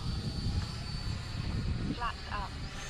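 An X-fly Sirius 80mm RC sport jet flying slowly with landing flaps down gives a steady, distant whining hum, with a voice audible in the background.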